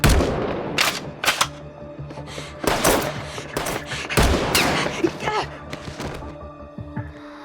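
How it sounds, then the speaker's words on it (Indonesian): Long-range rifle fire in an action film: sharp, loud gunshot cracks in an irregular series, some closely spaced, over a tense film soundtrack. "Dengan senapan jarak jauhnya, Nana berusaha menembaki Zhong dari atas gedung"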